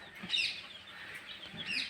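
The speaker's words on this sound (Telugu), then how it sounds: "న్యాచురల్గా పెరగాలి కోడిపిల్లలు" Young chicks peep in high, thin chirps alongside soft low clucks from a hen, close by and fairly quiet.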